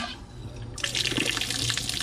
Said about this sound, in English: Then I'm just going to run the hot water